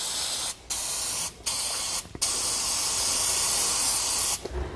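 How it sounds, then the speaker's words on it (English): Penetrating oil sprayed from an aerosol can onto rusty U-bolt hardware on a Dexter trailer axle, heard as three short hissing bursts followed by one long continuous spray, loud and close with no talking. "We're going to spray it down with penetrating oil."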